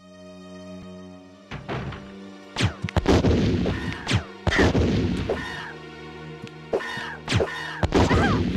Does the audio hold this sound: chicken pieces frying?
no